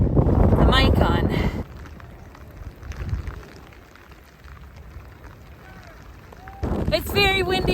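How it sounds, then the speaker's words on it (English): Strong wind on the Lofoten coast buffeting an open microphone, heavy low rumbling gusts at the start and end with a calmer stretch between, while people talk loudly over it. "It's very windy."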